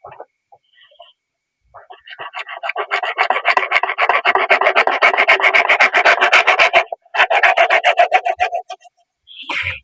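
A metal rod is cut by hand with a fast, steady run of rasping back-and-forth strokes, close and fairly loud, broken by one short pause before the strokes resume.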